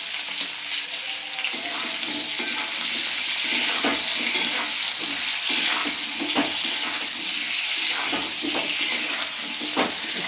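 A fish and spice mixture sizzles and fries in a pan while being stirred, with steady hissing and periodic scraping stirs.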